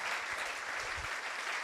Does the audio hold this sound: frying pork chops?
no